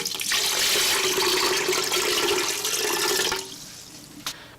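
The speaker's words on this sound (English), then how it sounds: "And then I'm going to add water in it that's enough to cover my pork." Water pours steadily into a cooker holding big slabs of pork for about three and a half seconds, a loud continuous rushing gush that stops abruptly, leaving a quiet room with a faint knock.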